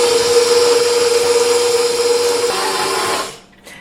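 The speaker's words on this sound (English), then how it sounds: "Be sure to keep the blender on the lowest speed so it doesn't mash up all the dry ingredients." A machine whirs steadily at low speed while mixing dry granola ingredients, a loud continuous motor drone with a tonal whine that slows and cuts off near the end.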